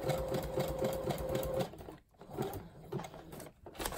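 A sewing machine stitches a craft bag, running in steady rapid bursts for about a second and a half, then stopping and restarting in shorter, softer runs close by.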